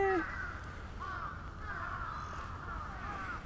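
A crow caws several times outdoors, one sharp close call at the start followed by fainter, drawn-out caws over steady background noise on a walk.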